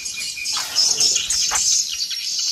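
Swiftlets fly around a swiftlet farm in the morning, making dense high chirps and twittering with a steady insect-like buzz beneath.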